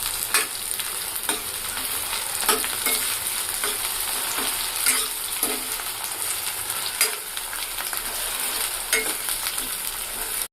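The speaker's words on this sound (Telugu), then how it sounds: "ఆనియన్స్ కొంచెం ఫ్రై అయిన తర్వాత ఇందులో మనం పచ్చిమిర్చి అండ్ కొంచెం కరివేపాకు కూడా యాడ్ చేసుకోవాలి" Chopped onions with green chilies and curry leaves fry steadily in a pan for an egg curry, giving a continuous dense sizzle broken by the scrape and clatter of stirring.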